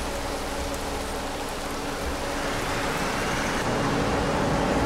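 Heavy rain pours down steadily and loudly, a dense continuous hiss of drops drumming on surfaces that builds slightly toward the end, with faint road traffic in the background.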